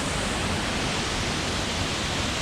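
A waterfall in Morocco roars in a steady, dense wash of broadband noise, close and continuous with no voices over it.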